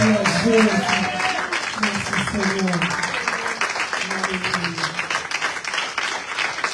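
A church congregation claps and cheers loudly and continuously, a dense wash of applause with voices calling out and a singing or shouting voice woven through the first half.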